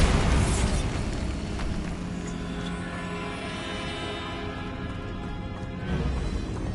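A Bombarda explosion spell goes off in a video game, a loud booming blast with a sharp onset that trails into a long rumbling decay, followed by a second swell near the end.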